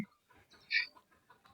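A single brief, faint native (desi) rooster call rises in the middle of an otherwise quiet outdoor moment near a pond.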